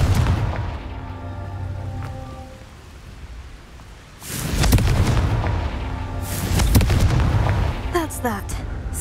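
A Confringo fire spell in Hogwarts Legacy bursts with deep booming blasts, each followed by a crackling rumble, and a short rattle of debris near the end.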